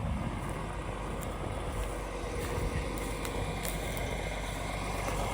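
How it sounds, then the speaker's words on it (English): A farm tractor engine idles steadily on a cold fall morning after warming up, ready to pull a tillage disc. Its low, continuous rumble stays even and fairly close throughout, with no talk over it. "Got the tractor warmed up"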